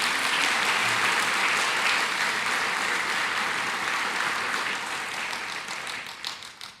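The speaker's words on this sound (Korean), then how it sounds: "우리 하나님께 감사의 박수를 드리겠습니다." A congregation at a Korean church worship service applauds together, a dense, steady round of clapping that slowly fades toward the end.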